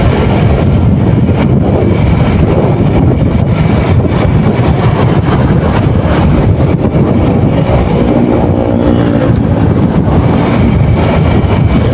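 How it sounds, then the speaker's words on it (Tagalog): Strong wind roars and buffets the microphone near a summit at Sky Ranch amusement park. The rush is loud, steady and unbroken for the whole stretch, with no voices over it. "Medyo mahangin na."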